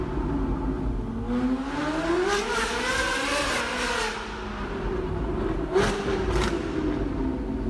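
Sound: car engine while driving

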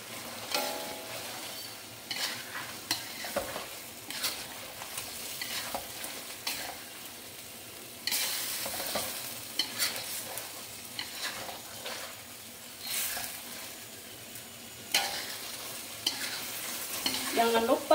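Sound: eggs being added and frying in a pan

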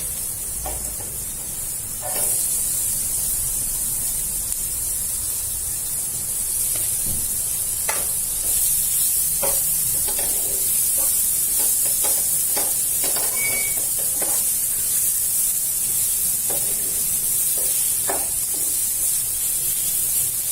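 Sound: onion sautéing in butter for masala pav

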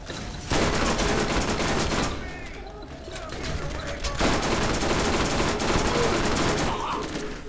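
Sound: gunfire in the video game Borderlands

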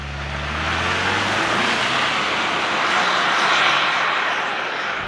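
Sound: 2024 Ford Ranger 2.3-liter Ecoboost engine driving uphill

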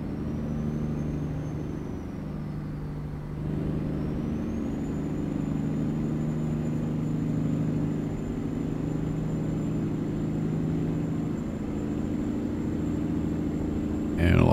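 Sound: Kenworth T909 truck engine in American Truck Simulator video game

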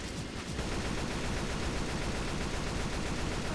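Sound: gunfire in a video game, shooting at a wall

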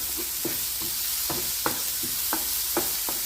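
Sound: sautéing tomatoes in a pan

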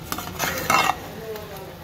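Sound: stirring seafood curry in a pot

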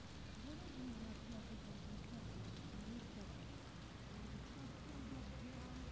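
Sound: rain falling outdoors

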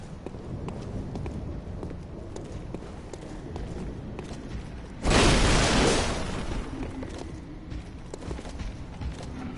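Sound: footsteps

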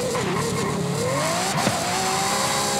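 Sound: car launching with wheelspin in video game Forza Horizon 5

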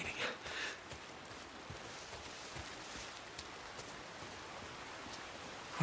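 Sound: rain in the video game Days Gone

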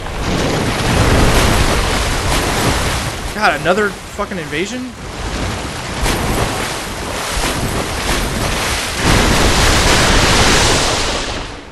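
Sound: wading through deep water in Dark Souls III video game

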